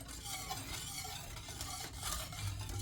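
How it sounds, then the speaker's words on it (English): A spoon stirs banana pudding mixture in a pot, a soft continuous scraping and rubbing with a faint rhythmic swish, close and quiet. "You have to stir constantly because this will begin to thicken and stick to the bottom"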